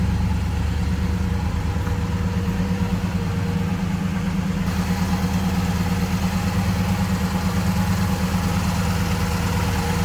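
A 1965 Chevrolet Impala SS 327 V8 engine idles steadily, a deep, throbbing rumble with a loping rhythm that stays constant and close throughout.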